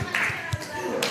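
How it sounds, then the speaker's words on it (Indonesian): Brief clapping from a classroom group at a teaching performance assessment, with a few distinct hand claps and a voice speaking over it, fairly faint. "Oke, tepuk tangan."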